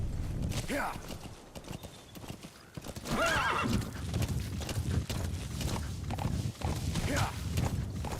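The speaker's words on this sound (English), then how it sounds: "Horse." A horse in the Metal Gear Solid V video game whinnies several times over steady clip-clopping hooves at a moderate level, with a person talking in between.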